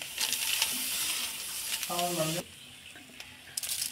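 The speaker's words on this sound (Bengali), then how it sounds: "তেজপাতাটা দিয়েছি, শুকনো লঙ্কা" Bay leaf and dried red chilli sizzle in hot oil for a Bengali masoor dal, a steady broadband crackle with brief stirring and a short voice-like tone in the middle.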